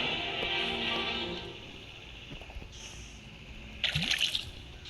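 Water trickles and drips while filling a container in the horror game Granny Chapter 3, a steady liquid stream with a few sharper splashy drips and a brief louder gush near the end, close by and without any talking.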